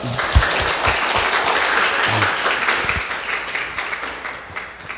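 Audience applause after a live band performance at a Korean radio show event, a loud, sustained crowd clapping that fades slightly toward the end.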